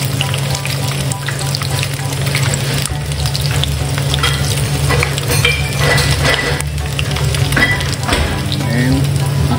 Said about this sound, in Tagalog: Magpiprito mga lodi.